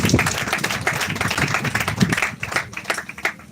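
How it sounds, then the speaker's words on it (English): An audience at a real estate presentation in Lagos claps, a lively burst of many hands that stays loud and then thins into scattered claps toward the end. "Can we clap for Veritas for that?"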